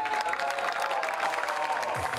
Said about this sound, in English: Please give a big round of applause for Team Netherlands.